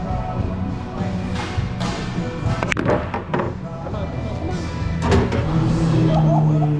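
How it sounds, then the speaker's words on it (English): Billiard cue ball striking other balls in a country tavern, a couple of sharp clicks cutting through steady crowd chatter and room noise. "So I'm gonna try to put this in and draw the cue ball back so I can shoot my next shot"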